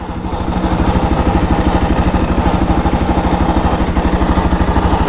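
A Bajaj NS200 motorcycle engine with an abnormal noise and vibration idles steadily up close, a loud, even low throb with a faint rhythmic knock running through it and no talk.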